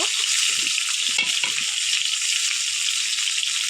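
A katla fish head sizzling in oil in a pan, a loud continuous hiss of frying with a few soft low knocks and stirs underneath, no talking.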